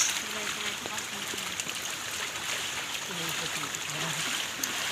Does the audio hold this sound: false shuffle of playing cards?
no